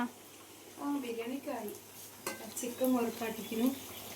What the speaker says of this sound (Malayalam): ഉമ്മച്ചിയോട് ചിക്കൻ വറുക്കുന്നുണ്ട്